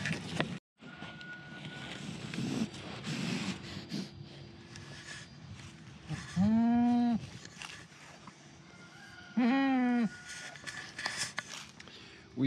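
Goats in a pen bleat twice in loud, wavering calls, a few seconds apart. People talk quietly and shuffle in the background.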